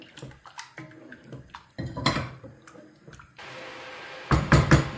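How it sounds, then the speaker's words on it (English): A metal lid clanks onto a cooking pot of ogbono soup in a kitchen, with a couple of sharp close clatters and softer scrapes between them. "Now cover and allow it to cook."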